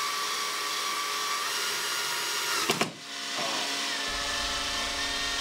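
Power drill running steadily while driving screws to attach whiteboard mounting clips to a wall, with a constant whine, a brief pause and slowdown in the middle, then a steady run again.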